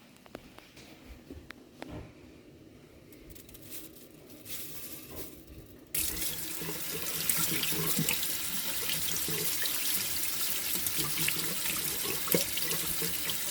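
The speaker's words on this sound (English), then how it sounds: "I'm gonna go ahead and dump these into my strainer and get them washed really well" Tap water runs into a sink over two cups of redbud flowers in a strainer, first a softer trickle, then from about six seconds a steady, louder, close gush of washing water.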